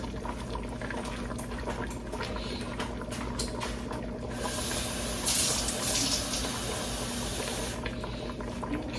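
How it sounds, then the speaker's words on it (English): Water pours steadily into a cooking pot of neck bones and potatoes for a few seconds, a soft splashing rush over the low bubbling and kitchen background. "Let me get some more water in this."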